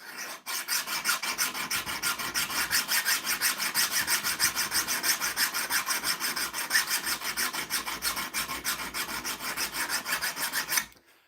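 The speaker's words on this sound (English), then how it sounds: "So let's keep filing." A hand file rasps steadily across a steel knife blade for a knife-making project, in fast even back-and-forth strokes, close and loud, with no talking.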